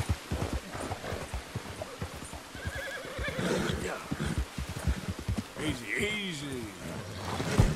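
Horse neighing and clip-clopping hooves in a video game, heard under steady talk from a player, with whinnies rising briefly near the middle and end amid continuous game sounds.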